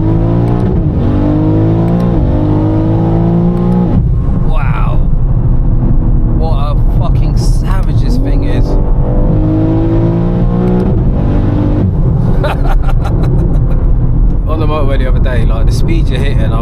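A 1400bhp turbocharged BMW M3 Touring runs with a loud, constant engine drone and occasional rises in pitch. Someone talks over it almost continuously.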